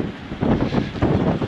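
Strong 30-knot wind buffets a sailboat at anchor, a low rumbling gusty roar with microphone buffeting that swells and eases.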